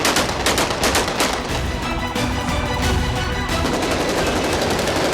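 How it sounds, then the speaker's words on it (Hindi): Celebratory AK-47 gunfire from Syrian rebels in the streets, with dense, loud bursts of rapid automatic shots crackling almost nonstop throughout, volleys overlapping with no pauses and no voices. "सीरियाई विद्रोही सड़कों पर खुलेआम AK-47 से गोलियां दागकर मना रहे हैं।"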